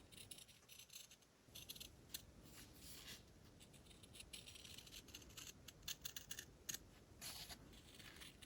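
Scissors cutting craft material for miniatures made from craft sticks, a quiet series of soft snips and crisp clicks, close but faint, no speech.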